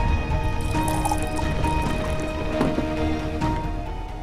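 Water poured for someone to drink, a continuous trickle and splash of liquid filling a vessel with small drips, fairly close and steady throughout.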